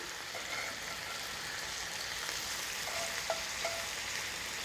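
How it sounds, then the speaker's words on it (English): Bacon sizzles in a hot pan with a steady, hissing crackle and a few sharp pops, close up and alone without talk. "It doesn't take you long to flip bacon over when it's hot."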